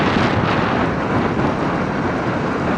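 Rain and wind buffet the visor of a helmet on a rider of a Honda CB250RS motorcycle, a loud, continuous roaring rush with no break, close to the microphone.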